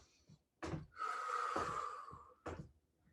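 Deep breathing during a cardio workout, with a sharp inhale followed by a long, slow, forceful exhale through the mouth and a quick breath at the end, close and clear, with no speech.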